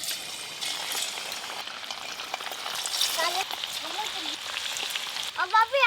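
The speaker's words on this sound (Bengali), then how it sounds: "তেল তো গরম হয়ে গেছে, ম্যারিনেট করা চিকেনের পিসগুলো ভেজে নেব এবার।" Marinated chicken pieces with chopped ginger and garlic frying in hot oil for crispy chicken, a steady close sizzle with some stirring, and brief whistling tones near the end.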